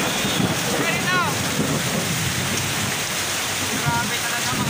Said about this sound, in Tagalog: Ganyan ang lakas ng hangin at ulan dito.